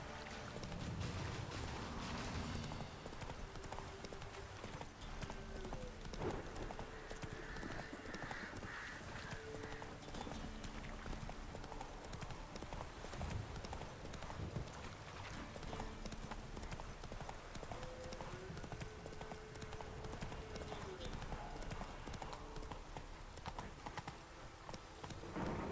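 Hoofbeats of the horse Roach galloping in The Witcher 3, a steady clip-clop rhythm running throughout over game ambience and music, with an occasional whinny.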